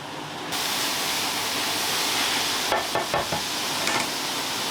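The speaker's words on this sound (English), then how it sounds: "keep stirring until it's lightly brown" Homemade cream of rice being stirred and toasted in a pan, a steady broad sizzling hiss with a few scraping strokes of the spoon toward the end, close and without talk.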